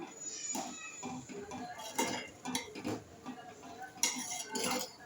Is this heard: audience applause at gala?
no